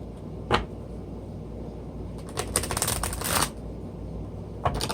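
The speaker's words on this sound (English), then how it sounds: "These cards are so hard to shuffle." Large oracle cards being shuffled up close: a single riffle, then a longer rapid flurry of flicks, and another short riffle at the end.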